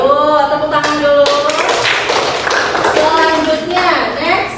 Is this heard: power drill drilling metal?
no